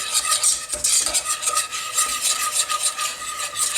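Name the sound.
stirring mac and cheese sauce in a pot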